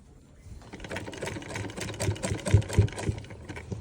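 A sewing machine stitching a cuff onto a sleeve, a close, rapid mechanical whirring that builds and pulses unevenly as the stitching runs for a few seconds, with no voices.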